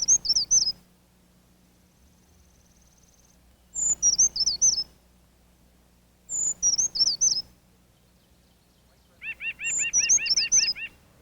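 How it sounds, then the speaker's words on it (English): A white-breasted nuthatch calls in a backyard in winter heading into spring, giving short bursts of high, clear notes that repeat four times with quiet gaps, the last burst joined by a fast, rising trill. "The white-breasted nuthatch is another bird of the tree trunk niche."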